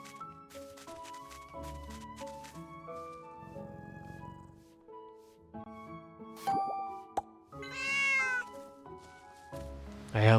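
Cat meows from the video game Little Witch in the Woods: two short rising-falling meows near the end, clear and close over gentle background game music with soft plopping effects.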